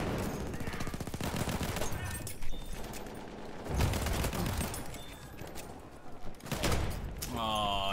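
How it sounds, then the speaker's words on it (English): Shotgun fire in the Battlefield 1 Frontlines mode on a battlefield: loud, dense bursts of gunfire and blasts continue throughout, heavy booms stand out near the middle and a metallic mechanical whine rises at the end, with no talk over it. "Oh, it was a shotgun."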